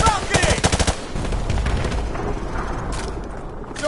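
Rapid machine gun fire from Call of Duty Modern Warfare on PS4, loud dense bursts at first, then giving way to a rumbling wash of ongoing battle noise.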